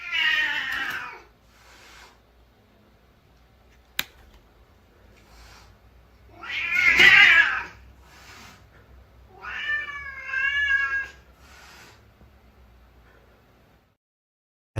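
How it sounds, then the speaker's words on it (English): A two-year-old, ten-pound female house cat makes strange drawn-out yowling meows, three loud bursts separated by quiet pauses, close and with no talking. "This is the video of the weird noise Jake's cat made"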